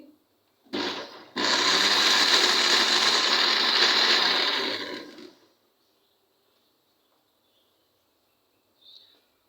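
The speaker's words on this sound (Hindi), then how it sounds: "इसको मैं दोबारा से अब ब्लेंडर करूँगी, मिक्स करूँगी" A blender mixing grape juice whirs loudly for about four seconds after a brief start-stop pulse, then cuts off into near silence.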